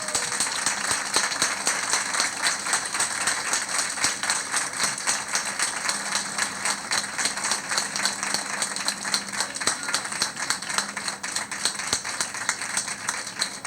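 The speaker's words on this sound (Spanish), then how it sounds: "les den un fuerte aplauso mientras yo lo filmo a todos" An audience at an event on digital and sustainable agriculture gives sustained, steady applause, dense clapping that fills the whole stretch without pause.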